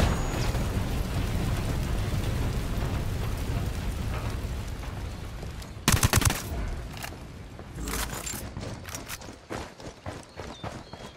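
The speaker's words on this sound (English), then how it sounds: "Throwing a flashbang." A flashbang grenade thrown in Ghost Recon Wildlands goes off as a sudden sharp loud blast midway through after steady ambient noise, followed by scattered cracks of gunfire and fading rumble.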